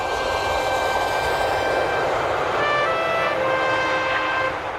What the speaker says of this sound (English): A jet plane was coming in to land.